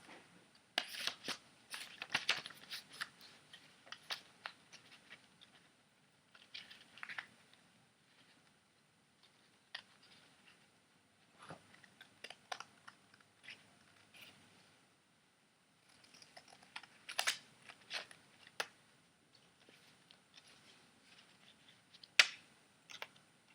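Scissors snip through paper while a butterfly shape is cut out, giving faint, close, irregular crisp snips in short clusters separated by quiet pauses.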